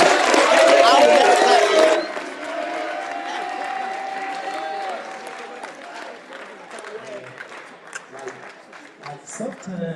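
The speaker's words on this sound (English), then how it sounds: "clap for them" Audience at a community institute event in Lexington applauds and cheers loudly for about two seconds, then the crowd noise drops to a quieter murmur with scattered voices and a faint lingering clap or two.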